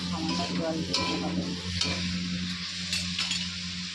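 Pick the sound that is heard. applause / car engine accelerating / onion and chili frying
onion and chili frying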